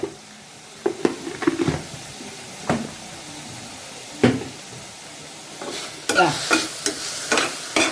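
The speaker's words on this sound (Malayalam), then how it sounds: "ഇത് നല്ല ഒന്ന് ചുവക്ക വറക്കണം" Meat fried in ghee with curry leaves, mint and chilli powder, stirred in the pan: a steady soft sizzle with repeated sharp scraping knocks of the spoon, growing busier toward the end.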